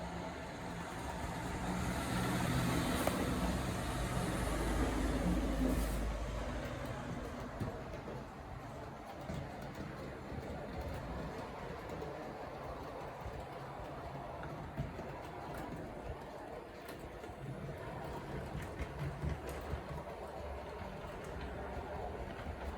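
Heljan model train running around the inner loop of a layout with tighter bends, a steady faint rumble and rolling hum that fades slightly after the first few seconds, continuous and unaccompanied by talk.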